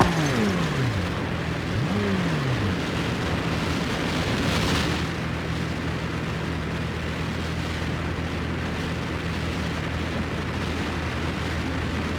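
A Dodge Viper accelerating hard in BeamNG Drive, a loud, continuous engine roar that holds steady throughout, with a brief rising whine early on.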